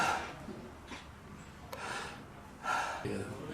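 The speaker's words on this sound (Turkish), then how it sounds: "Derin nefes alıp verebilir misiniz?" Slow, deep breaths drawn in and let out audibly during a doctor's chest examination of a coughing COVID-19 patient, close to the microphone, repeating several times with quiet pauses between.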